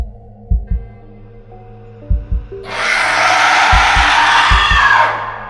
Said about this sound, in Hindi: उस बॉक्स में से धड़कन सुनाई दे रही थी।